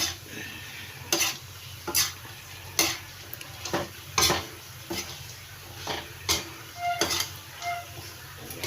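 Coconut milk cooking down into latik in oil, with a steady hissing sizzle broken by repeated scraping stirs at roughly one-second intervals; no talking.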